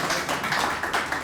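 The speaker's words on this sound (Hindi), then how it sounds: "प्लीज़ ताली तो बजाओ भाई" A short burst of audience clapping, with several quick, scattered claps close by, at an open mic Hindi poetry gathering.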